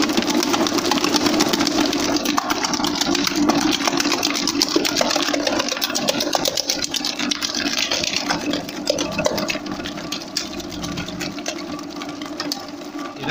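An electric mixer kneading donut dough runs steadily with a whirring, rattling motor drone that stays constant throughout, moderately loud and close.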